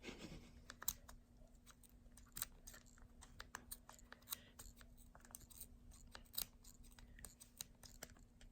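Quiet, irregular sharp snips and clicks of scissors cutting yarn for pom poms, repeated close by over a faint hum, with no talking.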